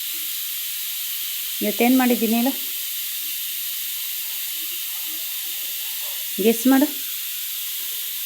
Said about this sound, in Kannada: ಕುಕ್ಕರ್ ಕರಿತೈತೆ ನೋಡು